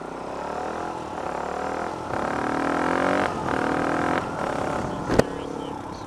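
Yamaha R1 sportbike, a 2015 model, pulling hard in second gear at full throttle, its engine note rising steadily in pitch with a brief drop partway through and a short sharp click near the end, loud and close.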